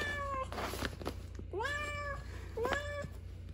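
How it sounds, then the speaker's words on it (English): A male cat meows at a window, three close, drawn-out rising calls spaced about a second apart over a low steady hum, no talk. "That's another boy cat."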